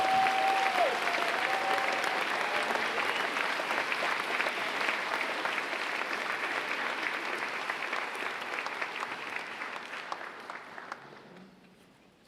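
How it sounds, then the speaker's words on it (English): Sustained crowd applause at a UCSF graduate commencement ceremony, a dense wash of clapping that holds steady for most of the stretch, then thins and fades out near the end. "How about giving a round of applause to these folks calling the names?"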